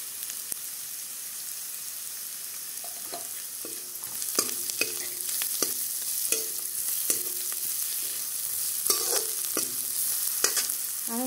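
Spices and masala fry in oil with a steady sizzle while a utensil scrapes and stirs the pan in repeated strokes, close by, with no one talking.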